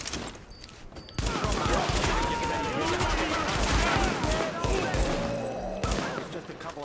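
Sidearm pistol gunfire in a Tom Clancy's shooter game crackles in rapid volleys of sharp shots and thuds, loud and sustained, while a voice talks over the shooting.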